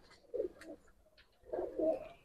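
Teddy high-flyer pigeons of a pure bloodline coo in two low, throaty bursts separated by a short pause, close and fairly quiet with no talk.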